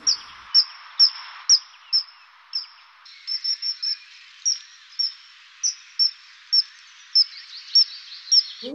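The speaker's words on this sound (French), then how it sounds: "on va retrouver un oiseau très connu pour son plumage, c'est le martin pêcheur" A common kingfisher gives a steady series of shrill, high, thin whistled calls, repeated roughly every half second, clear and fairly close against a quiet background.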